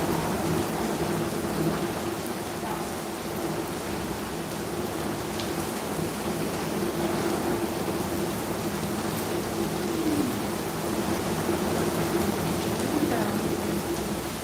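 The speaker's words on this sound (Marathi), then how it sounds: "पावसाचा आवाज येतो." Steady rain with low rumbles of thunder fills the whole stretch as a continuous, fairly loud wash, with no talk over it.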